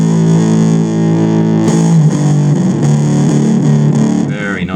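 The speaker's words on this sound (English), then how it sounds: "turn off the modulation effect, just to get a clearer look at the actual distortion sound" Distorted electric guitar through a Nux MFX10 multi-effects pedal, modulation off, plays a sustained chord, then shifts to a busier run of notes with a gritty, saturated tone, loud and continuous throughout.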